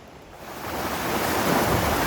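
A river in a Philippine province rushes steadily, the broad roar of flowing water swelling slightly and then holding loud and close, with no voices.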